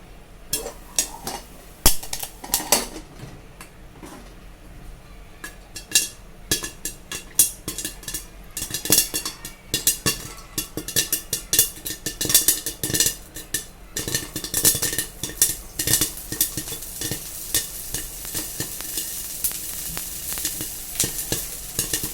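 Popcorn being stirred in a pot before the lid goes on, a steady sizzle of hot oil with scraping, clinking spoon-against-metal strokes and irregular louder clatters throughout.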